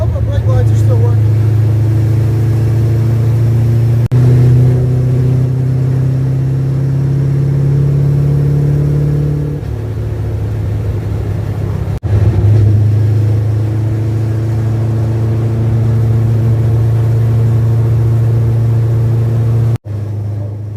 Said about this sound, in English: Once the clutch is down, the car drives great. It's nice and smooth. Loud, but very smooth.